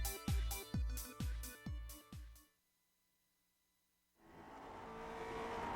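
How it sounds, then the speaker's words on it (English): A GSRC Lotus 49 racing car on the Le Mans circuit in Grand Prix Legends, its engine roaring in five or six rhythmic revving bursts, then a sudden near-silence before a steady engine drone rises again. "we're in the GSRC Lotus 49, so let's do a lap around Le Mans"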